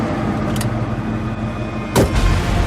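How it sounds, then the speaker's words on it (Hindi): A car is started with a turn of the key, a steady engine hum running throughout with a sharp burst near the end, used as a sound effect in a narrated horror story. "गाड़ी स्टार्ट करने को चाबी घुमाई तो कार स्टार्ट होने की आवाज के साथ ही"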